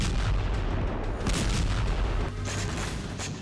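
Loud, continuous rumbling blast noise from a drone strike on Russia's Primorsk port on the Baltic Sea at night, broadband and sustained with a few sharper bursts over a heavy low roar.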